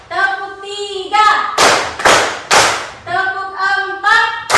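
Class clapping along in a classroom clapping routine, a few bursts of group claps alternating with a voice chanting instructions.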